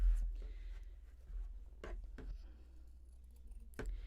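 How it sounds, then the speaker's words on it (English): Scissors cut paper circles for a Dollar Tree holiday Minnie ears craft. A few crisp, separate snips and rustles sound close by over a low background rumble. "We have our 4 circles, and then I'm going to just cut those out."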